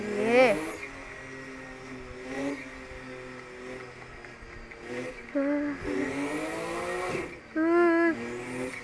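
A Porsche racing in Assetto Corsa on a mountain pass, the engine revving up and down in rising and falling sweeps, kept quiet beneath someone talking over it.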